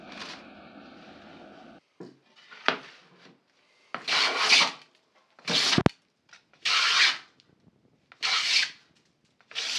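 Wooden pieces hand-cleaned of bandsaw ridges with traditional hand tools: a series of dry rasping strokes, each about half a second long, close and fairly loud, separated by short pauses, with no talking.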